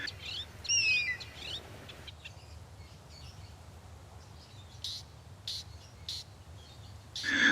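Shrike calls: a few sharp, whistled chirps near the start and another bright call at the end, over steady low outdoor background noise with faint intermittent ticks between.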